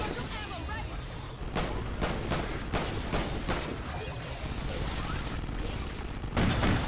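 Gunfire in Call of Duty Ghosts Extinction mode pounds away at an alien hive in repeated bursts of sharp shots, close and loud, with players talking over it.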